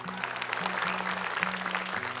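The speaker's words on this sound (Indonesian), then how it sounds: "Tepuk tangan untuk peserta kita." Short burst of audience applause for contestants at a televised Quran memorization competition, steady clapping from a crowd over a low repeating musical tone in the background.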